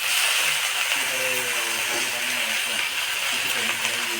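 Potatoes frying in a pan with thankuni leaves added, producing a loud, continuous hiss and sizzle up close, with a faint voice speaking underneath.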